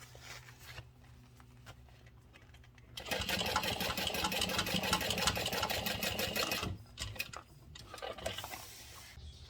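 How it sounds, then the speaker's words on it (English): A sewing machine chain-sewing fabric pieces, running in a steady fast whirring stitch for several seconds after quieter handling sounds, then slowing and stopping with a few short bursts. "I'm going to go ahead and chain sew"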